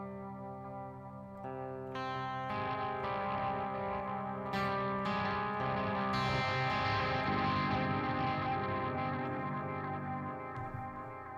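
Electric guitar through a delay pedal, eerie sustained notes smearing into dense repeating echoes that build and wash together, steady and moderately loud with no talking.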